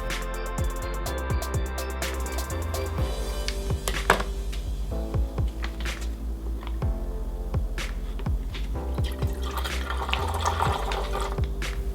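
Descaling solution is poured into the water tank of a Nespresso VertuoLine Evoluo coffee machine, giving a steady close liquid trickle over a low mechanical hum, with a few light plastic knocks along the way.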